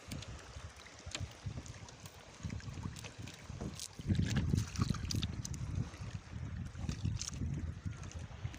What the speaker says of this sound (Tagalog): Sagwan lang.